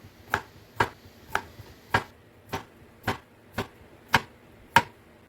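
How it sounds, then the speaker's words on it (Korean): A knife slices cucumber diagonally on a cutting board in nine crisp, evenly spaced chops, close and clear, with quiet pauses between strokes. "어슷썰기를 길쭉하게 조금 얇게 썰어주세요."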